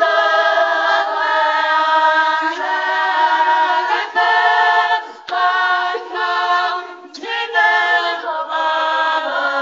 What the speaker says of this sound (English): it sounds like a cappella